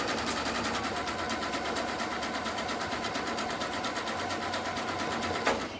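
A sewing machine runs steadily, stitching around a coiled clothesline coaster in one continuous close, even whir with a rapid needle rhythm and a brief bump near the end.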